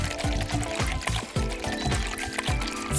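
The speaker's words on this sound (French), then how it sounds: "Je vais verser un peu d'assouplissant pour linge dans un bol." Fabric softener poured into a bowl, a close, continuous liquid stream with gurgling pulses over about three seconds, heard alone.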